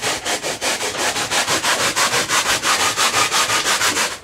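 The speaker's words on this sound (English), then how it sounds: "and just hand sand it with the pad." A foam airplane nose for an RC airliner model is hand sanded with a flexible foam pad, giving rapid, even back-and-forth rubbing strokes, about four or five per second, close up and alone.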